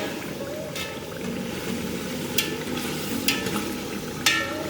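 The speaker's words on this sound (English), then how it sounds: "And then the cabbage. Let it stew in there." Cabbage stewing in a pot of Senegalese thieboudienne, stirred steadily: a continuous moist bubbling and scraping texture with a few sharper clinks of the spoon against the pot.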